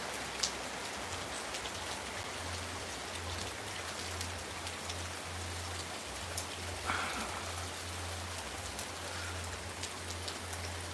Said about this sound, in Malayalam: നല്ല മഴയിന്ന് രാവിലെ തുടങ്ങിയ മഴയാണ്